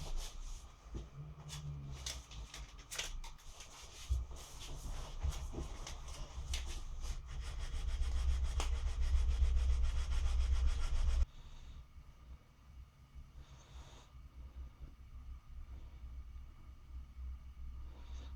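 Sandpaper of 180 grit rubs back and forth along a survival knife blade, a close, rasping scrape that grows louder, then thins to quieter, softer strokes in the second half.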